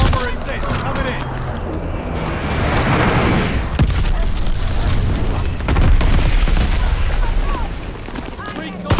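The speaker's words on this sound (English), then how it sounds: "Teammate called a bomb." Bomber airstrike in a first-person shooter: heavy booming explosions and crackling blasts rumble continuously, loud and close, with voices talking over the barrage.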